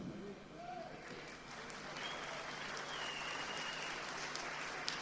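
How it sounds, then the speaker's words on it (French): At an MJM 20th-anniversary evening, the crowd gives the staff a continuous round of applause, heard as a soft, distant, steady patter of many hands. "J'applaudis tout le personnel de ce soir."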